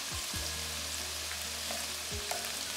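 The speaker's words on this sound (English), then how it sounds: "We're going to let this pork cook a little bit" Pork frying in a pan, a steady close sizzle and crackle with a few low knocks from a utensil, no talking.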